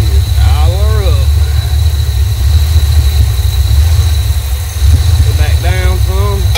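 A 1986 Chevrolet Suburban dually engine runs at a raised idle, a loud steady drone throughout, with brief whirring pitch sweeps near the start and end.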